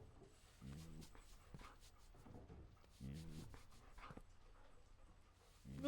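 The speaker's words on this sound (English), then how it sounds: "Look at this sweet little puppy." Small puppy in a kennel whimpering and panting in short bursts, close and quiet, with faint rustling between the cries.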